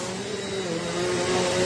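A Eureka Airspeed bagless upright vacuum cleaner runs on carpet close by, giving a steady, loud motor whine with a hiss of airflow and no talking.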